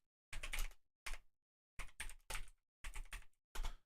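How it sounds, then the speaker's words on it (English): Bursts of computer keyboard typing come close and clear: six separate flurries of rapid key clicks and clacks, each split off by short silences. "Oh, I'm not typing well today at all."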